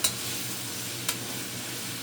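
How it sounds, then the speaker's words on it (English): Sweet pepper, garlic and onions sizzle steadily in a hot pan, a quiet continuous crackle with a couple of faint clinks from a utensil. "Grandma put everything into her pan and she's frying it up"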